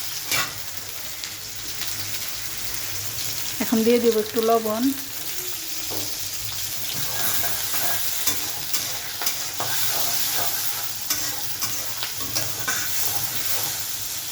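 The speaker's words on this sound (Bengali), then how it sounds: "এখন তেল গরম করে কড়াইতে পেঁয়াজ কুচি, কাঁচামরিচ কুচি আর একটা তেজপাতা ছিঁড়ে দিয়েছি" Chopped onion, green chili and a torn bay leaf fry in hot oil in a wok, with a continuous close sizzle and frequent stirring scrapes; someone speaks briefly early on.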